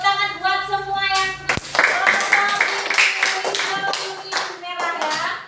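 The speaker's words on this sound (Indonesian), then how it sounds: "Oke, tepuk tangan buat semua yang" Schoolchildren in a classroom clapping their hands together, a burst of many quick, close claps that starts suddenly and continues unevenly for several seconds, with a teacher's voice heard before it.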